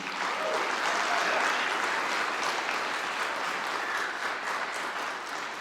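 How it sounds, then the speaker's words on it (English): A high school concert audience at a music hall of fame event claps warmly and steadily, a dense, even round of applause filling the hall without a break. "Can we give Justine a big round of applause, please?"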